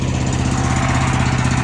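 Gas-engine pressure washer machines rated 5.5 PPM run at a cedar house wash, giving a loud, steady, close engine drone that holds level throughout with no talking.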